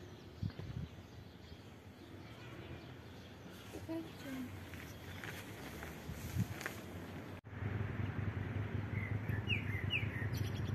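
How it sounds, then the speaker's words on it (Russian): Small birds chirp and tweet on a spring walk near houses with hedges and fences. The calls are faint and scattered over light outdoor rustling, and there is a brief dropout partway through. "Птички пищат."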